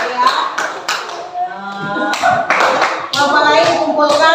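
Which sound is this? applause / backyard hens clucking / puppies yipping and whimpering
applause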